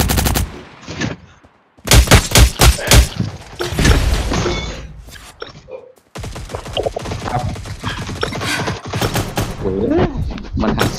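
Rapid automatic gunfire in the mobile shooter Cyber Hunter, loud bursts of shots in quick runs with short gaps, mixed with impact thuds and game effects, and a player talking over the action.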